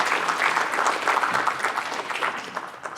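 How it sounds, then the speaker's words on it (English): An audience claps for a panel of presenters in a brief, steady round of applause heard from within the room. "Can we give another round of applause for all of our presenters today?"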